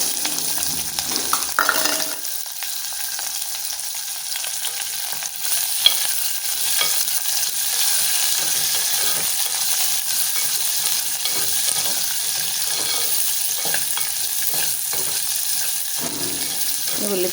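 Sliced onions and slit green chillies fry in a pan, giving a loud, continuous hissing sizzle that runs steadily throughout, with brief stirring noises near the start.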